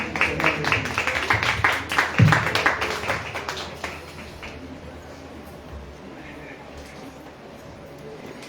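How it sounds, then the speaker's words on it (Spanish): Church congregation clapping during a Sunday service, a dense burst of applause that peaks early, then fades into soft room noise after about four seconds, with some voices mixed in. "den un aplauso al Rey de Reyes"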